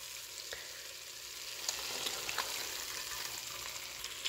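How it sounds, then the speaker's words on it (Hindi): Eggplant stirred into tomato masala frying in oil: a steady, close hiss of sizzling with faint scraping and stirring ticks scattered throughout. "बैंगन डाल के सबको अच्छी तरह से मिक्स करेंगे"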